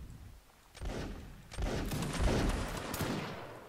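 A ragged volley of musket fire from a line infantry formation in Mount & Blade: Warband, heard as a cluster of overlapping cracks and pops at moderate distance, rising over about two seconds and then thinning out.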